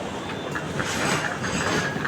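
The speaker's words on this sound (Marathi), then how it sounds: "आवाज बघा काय मजबूत आहे त्यातली येणारी ट्रेन आहे ती" An arriving train on the Konkan Railway rumbles steadily close by, a dense continuous roar of wheels and carriages with faint rhythmic clatter.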